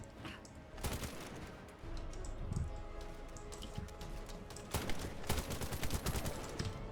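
Rapid bursts of gunfire from a custom gun in the shooter game The First Descendant, dense fusillades with a quieter stretch between, sharp repeated cracks close by, with no talk.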